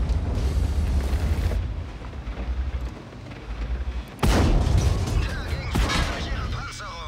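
Tank cannon fire from the World of Tanks video game, including a TVP T50/51: loud booming shots over a constant rumbling battle din, with one sharp, heavy blast near the middle. Someone talks throughout.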